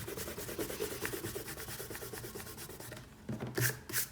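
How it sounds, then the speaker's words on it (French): An eraser rubs back and forth over pencil lines on paper, a steady run of close, soft scrubbing strokes that pauses briefly before a few louder final swipes. "on peut ensuite gommer nos traits de construction"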